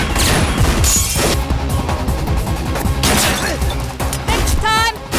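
Loud explosions and crashing debris from an action film scene set during a 90th anniversary celebration, dense and continuous, with a brief voice near the end.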